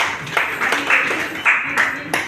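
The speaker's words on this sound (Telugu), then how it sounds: "claps please all of you" An audience claps at a local Telangana news event, a short burst of steady, close applause.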